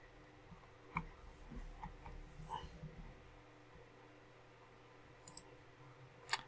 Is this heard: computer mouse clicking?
yes